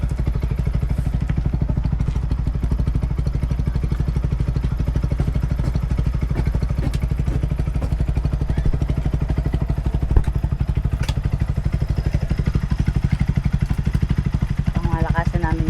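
Motorcycle engine running with a steady, rapid low-pitched putter and clatter throughout, close and loud.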